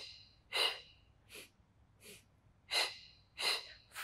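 Deep breaths taken during a beginner morning Pilates workout, with several separate breathy inhales and exhales spaced through a quiet moment, close to the microphone and with no talking.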